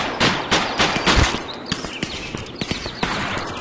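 Rapid gunfire in the VR shooter game Aim XR, with dense overlapping shots and bursts crackling continuously at close range, no talk.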